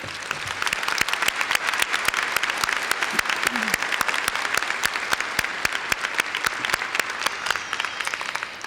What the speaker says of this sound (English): Please let's applaud our family friends that are here tonight.